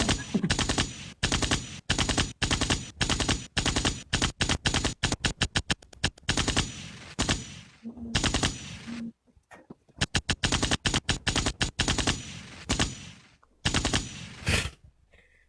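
Rapid bursts of automatic gunfire in a video game, loud and close, fired in repeated strings of shots with brief gaps between them.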